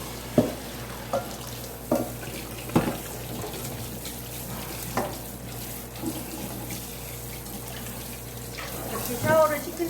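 Boiled chicken rinsed under a running kitchen tap in a sink, water splashing steadily with intermittent sharper clatters and handling knocks, close and fairly loud.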